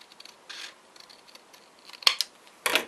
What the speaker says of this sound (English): There's something quite satisfying about cutting cardboard.